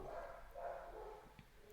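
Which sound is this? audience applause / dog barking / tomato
dog barking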